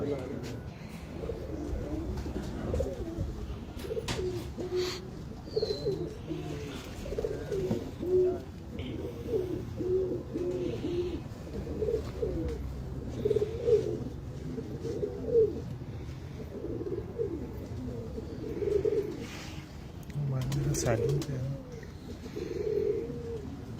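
Pigeons coo steadily and repetitively at a pigeon keeper's loft in Lahore, a dense, close chorus of overlapping throaty calls that runs throughout.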